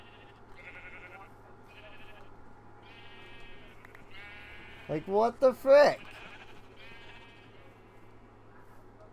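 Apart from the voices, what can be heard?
sheep bleating in the video game Minecraft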